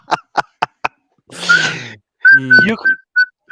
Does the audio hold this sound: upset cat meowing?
no